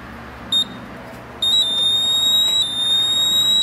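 GMI Visa gas detector sounding its alarm during calibration: a short high electronic beep, then a continuous shrill tone that holds steady over a low background hum.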